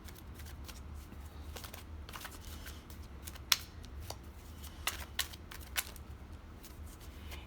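A deck of Angel Answers cards is handled and shuffled close by, soft riffling and papery rustles with several sharper flicks and snaps scattered across the quiet stretch, no voices.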